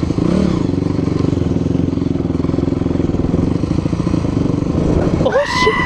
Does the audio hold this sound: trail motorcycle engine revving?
yes